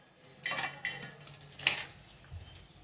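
A knife cuts raw mango into strips on a board in a few separate crisp, clicking chops, quiet and close, with no speech.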